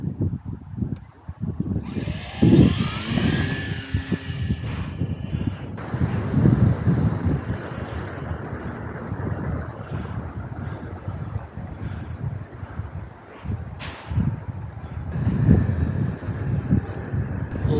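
An FMS PA-18 model airplane flying over a windy beach gives a buzzing electric motor whine that rises and fades as it passes, mixed with strong wind buffeting on the microphone.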